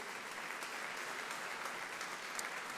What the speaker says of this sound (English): somebody give God a hand clap